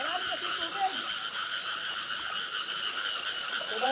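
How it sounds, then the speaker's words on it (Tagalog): Frogs croaking in Taiwan, a dense continuous chorus of many calls at steady loudness, with no talking. "Malalaki pa yung palaka dito, no?"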